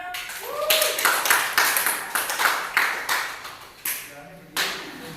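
A class claps after a teaching session, with a handful of distinct, fairly close hand claps in an irregular rhythm and voices talking alongside them.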